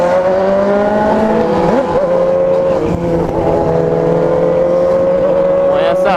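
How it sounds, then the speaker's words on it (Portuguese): A Honda Hornet motorcycle with a new exhaust revs loud and close, its engine note rising and holding steady throughout, with voices talking over it. "Escapamento novo aí, ó."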